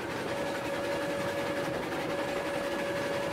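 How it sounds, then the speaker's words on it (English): A steam locomotive from the game Railroads Online runs with steady, dense chuffing and mechanical rumble under a constant high hiss, loud and unbroken throughout. "That's why the train sounds a little more alive, you know?"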